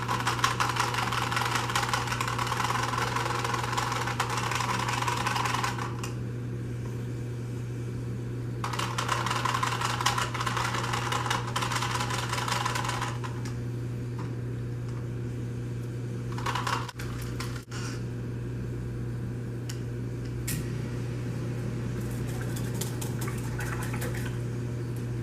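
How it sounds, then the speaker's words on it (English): Colored soap batter being whisked in two long, close mechanical bursts over a steady low hum, with a quieter pause between them and faint clatters afterward. "Whisk up my colors here."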